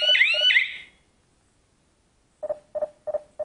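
A short electronic chirp is followed by silence, then a run of four sharp beeps in a regular rhythm, clear and close, from a touch-screen smart home security system being armed.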